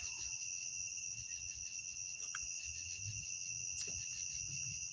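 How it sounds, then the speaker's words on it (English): Crickets chirp in a steady, high-pitched chorus on a quiet night in a backyard, with faint low rustles and one short click underneath. "Crickets are cricketing."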